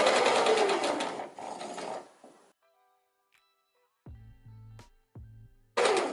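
A sewing machine stitches an infinity scarf in a loud whirring run that slows and stops, then short back-stitch bursts follow after a quiet pause, with another run at the end.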